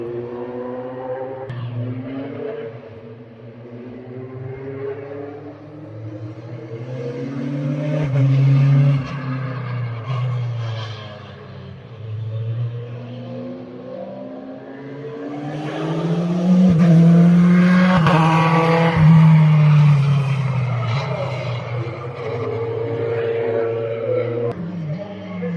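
Rally cars on a mountain stage accelerate past, engines rising and falling in long revving sweeps with tire noise, heard from the roadside with occasional voices.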